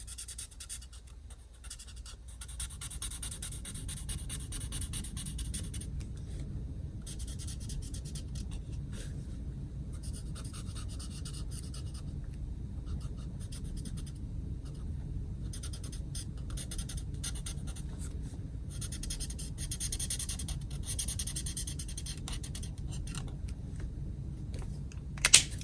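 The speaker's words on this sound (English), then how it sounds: "I'm going to take my bullet point and I'm going to color within this frame" A bullet-point pen scratches softly and steadily across paper while colouring inside a paper frame, a faint continuous close-up scribble ending in a small tap.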